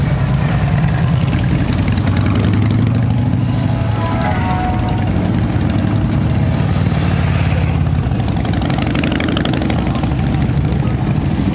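A dense crowd of motorcycles rumbles and idles together at a Toys for Tots charity run in Anderson, South Carolina, making a loud, continuous low-pitched engine drone with no voices over it.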